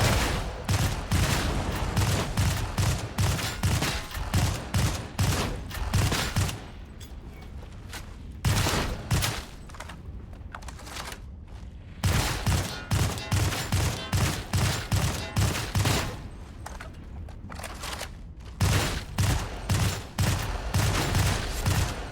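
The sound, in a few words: Vigilant Autogun hipfire in video game Darktide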